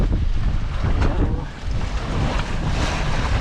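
Strong wind gusting over open sea with waves surging and crashing, a loud continuous roar with heavy microphone buffeting throughout and no voices.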